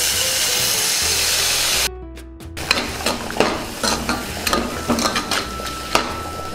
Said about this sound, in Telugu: ముందుగా కచ్చాబిచ్చాగా దంచుకున్న పచ్చిమిర్చి, కొత్తిమీర, పుదీనాని ఇందులో వేసేసుకుందాం.